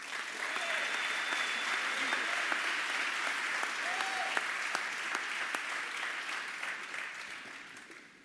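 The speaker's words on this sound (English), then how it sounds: "So please join me in one final round of applause for all of our Student Athlete Award winners" Sustained applause from a crowd at a student athlete award ceremony, a broad even roar of clapping with a few sharp individual claps and faint voices, fading slightly toward the end.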